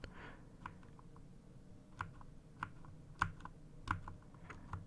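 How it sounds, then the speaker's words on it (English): Keys on a computer keyboard clack in sparse, irregular taps, several sharp clicks spaced a second or so apart over a quiet background, close and soft, with no talking. "I forgot how many settings are on this keyboard."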